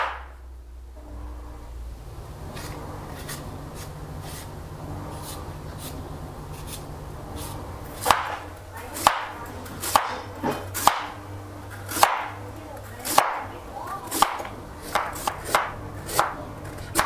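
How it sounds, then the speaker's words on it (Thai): A knife chops peeled purple sweet potato into pieces on a cutting board, with a dozen or so crisp, irregular thuds close by over a low background hum. "ขั้นตอนแรกก็ให้นำมันม่วงมาปอกเปลือกแล้วหั่นเป็นชิ้น"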